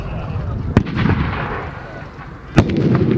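Tank gunfire at a military vehicle show, with two sharp, loud blasts less than two seconds apart. Each blast is followed by a rumbling boom and crowd noise.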